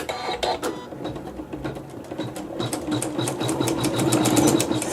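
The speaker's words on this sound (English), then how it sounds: "Sew a few stitches, cut the thread" An embroidery sewing machine stitching a quilting design, with thread G in the needle and bobbin, runs steadily close by with a rapid mechanical rhythm that grows slightly louder toward the end, and no talking.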